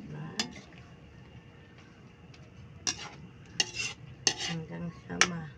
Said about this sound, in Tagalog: At halo-haloin na natin.